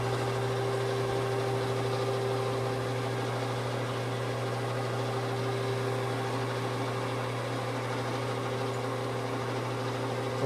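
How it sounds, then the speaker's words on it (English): A geared head metal lathe runs in a workshop, giving a constant mechanical hum with a steady tonal whine. The sound stays even and close throughout, with no voices. "That's a geared head lathe."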